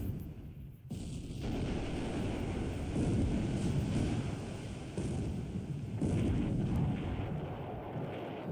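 Naval gunfire strikes a ship in the Pacific: AE war game, a continuous low rumbling roar of shellfire and impacts with a couple of sharper swells, fairly loud and steady.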